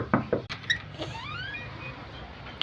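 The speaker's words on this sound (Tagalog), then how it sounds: "Ay, may kumakatok." Knocking on a door: a couple of dull thuds near the start, then high squeaky chirping tones that trail off. No one speaks.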